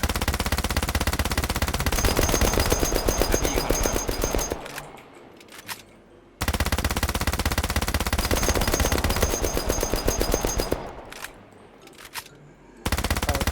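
Rapid automatic gunfire aimed at a boss in the video game Outlawz, two long sustained bursts of tightly spaced shots, each followed by a quieter stretch of a couple of seconds before firing resumes.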